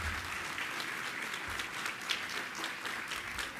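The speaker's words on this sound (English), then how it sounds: "round of applause for them" A crowd at a city flag celebration news conference applauds the city council and elected officials, a fairly faint but steady patter of many hands clapping, even from start to finish.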